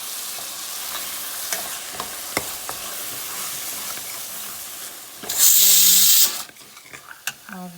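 Onions, capsicum and tomatoes frying for pav bhaji give a steady close sizzle with scattered stirring clicks, then a loud burst of hissing steam near the end before the sizzle settles again.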